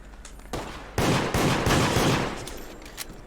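A burst of gunshots in the video game Deceit, several sharp cracks in quick succession at close range with a noisy reverberant tail.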